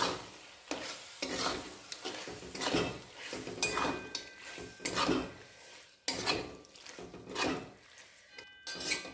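Kolhapuri mutton cooking in its own juices is stirred in a pot, with rhythmic scraping strokes of a spoon against metal over a low sizzle, each stir rising and falling in a repeating pattern.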